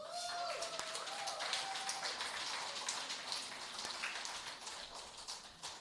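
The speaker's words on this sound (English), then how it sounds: "Let us give all our rural women and girls a specific applause." A crowd applauds rural women and girls at an agricultural display and media launch in Jamaica, a fairly quiet, steady patter of clapping that lasts throughout with a faint tonal sound early on.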